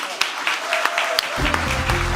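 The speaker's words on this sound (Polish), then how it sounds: "Wielkie brawa, zapraszamy." Audience applause for the Społeczne Przedsiębiorstwo Roku 2024 award ceremony, a steady mass of clapping that builds and holds with scattered sharper claps, while a voice speaks over it near the end.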